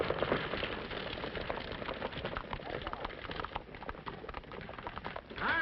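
Hooves of a wall-eyed cayuse clip-clop in an old western film, a busy, steady patter running under voices and other background sound throughout.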